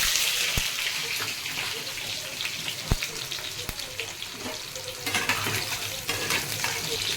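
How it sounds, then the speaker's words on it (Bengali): Brinjal slices frying in a pan with salt and turmeric, a continuous bubbling sizzle with sharp clacks of a utensil against the pan at irregular moments, no talk. "একটু নুন হলুদ দিয়ে বেগুনগুলোকে ভেজে নেব আমি"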